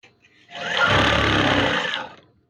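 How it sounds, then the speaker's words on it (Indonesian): A sewing machine stitches a curtain in one steady whirring run of about one and a half seconds, loud and close, starting and stopping cleanly. "Lihat cara saya menjahit"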